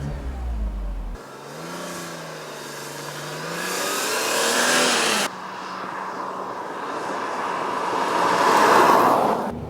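A 2000 BMW Z3 M Roadster engine starts with a brief crank, then settles into a loud, steady idle and rises in a drawn-out rev, heard close and alone without talk.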